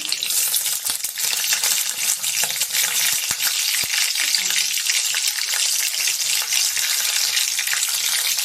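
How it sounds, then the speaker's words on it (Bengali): Bay leaf and green chilli crackle and sizzle in hot oil, a close, continuous frying hiss with small pops throughout, with no talk over it. "আমার গরম হয়ে গেছে, এবার আমি ফোড়ন করে নেবো। প্রথমে দিয়ে দেবো তেজপাতা, এবার দিয়ে দেবো কাঁচা লঙ্কা"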